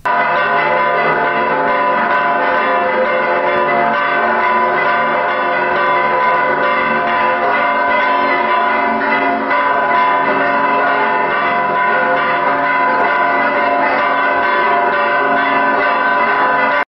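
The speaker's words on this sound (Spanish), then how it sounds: "Los repiques de campanas se hicieron presentes." Church bells peal steadily and loudly at a religious celebration for the Señor de la Misericordia, a continuous ringing wash with no pause over the whole stretch.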